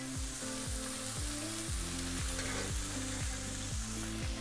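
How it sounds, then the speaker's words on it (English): A knob of butter sizzles loudly in a hot pan alongside seared flank steak, a steady dense crackle filling the whole stretch up close, with no talk. "At this point, I'll add a nice knob of butter."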